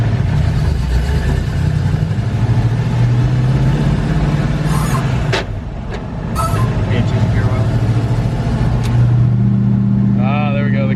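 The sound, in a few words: Ford F100 truck with T56 transmission, engine revving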